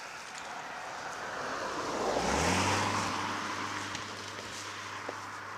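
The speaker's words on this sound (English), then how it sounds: "Oh, car coming, Mike." A car on a road approaches, swelling from a distant hum to a loud close pass and then fading away, with its engine tone dropping in pitch as it goes by, with no voices.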